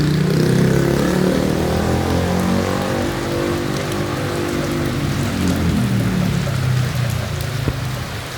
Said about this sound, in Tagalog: Lord, tama na po muna yung maraming ulan.